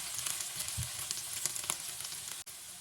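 Onion and green chili fry in a pan heated on high, giving a continuous soft crackling sizzle with a few louder pops, quiet and with no voices.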